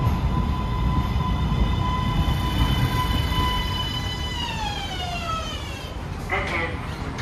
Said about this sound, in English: Train to Riverside is now arriving.